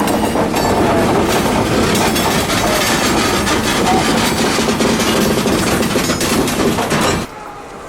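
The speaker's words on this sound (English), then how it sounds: "Rich and David backed down the spur, and the cars had no problem over the dirt crossing." A 1958 EMD GP9RM diesel locomotive backs freight cars down a spur over a dirt crossing on the Florida Central, the loud wheel clatter and rumble rolling on steadily before cutting off abruptly near the end.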